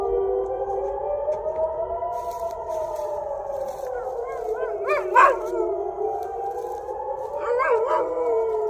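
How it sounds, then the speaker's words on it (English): A dog howls along with a wailing air raid siren, the siren's long rising and falling tone dominant throughout, with the dog's higher howls breaking in near the middle and end. "Doggy doesn't like it at all,"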